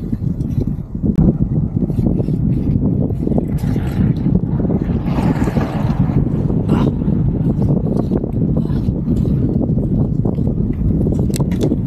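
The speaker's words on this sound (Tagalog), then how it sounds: "Lakas ng hangin." Steady, loud wind buffeting the microphone with low rumbling roar throughout, a brief dip near the start, and faint traffic in the background.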